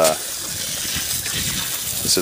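A steady rush of well water gushes onto the ground at the base of a plum tree, a continuous close splashing pour with a brief louder burst at the start.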